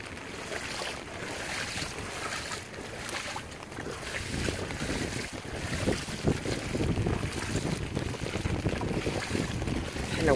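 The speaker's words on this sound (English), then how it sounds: "And the wind is kicking up." Wind gusts roar during Hurricane Harvey, a broad continuous rushing that builds louder toward the end, buffeting close to the microphone with water-like wash underneath.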